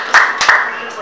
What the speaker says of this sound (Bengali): আর তার জন্য একটু করতালি